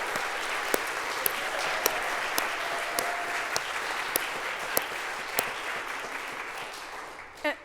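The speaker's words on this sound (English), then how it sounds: "Just a round of applause for the climate justice team and Andrea at the head" Audience at a church worship service applauding the climate justice team, steady broadband clapping held throughout at moderate level with a few sharper claps standing out, ending in a brief louder burst.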